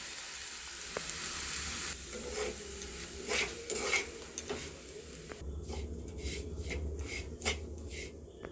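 Semolina sizzling and frying in a pan with salt and turmeric, with steady crackling hiss and occasional scraping stir strokes, close and continuous with no talk.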